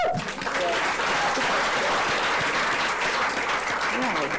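An audience gives a round of applause at a women's panel event in South Africa, continuous dense clapping heard throughout, with a voice briefly audible at the start.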